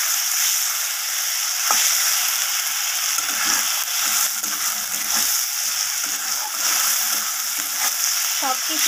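Fish curry masala with chili powder and potato sizzles steadily in hot oil as it is sautéed, a dense continuous frying hiss with occasional soft scrapes of stirring, close and fairly loud, with no talking.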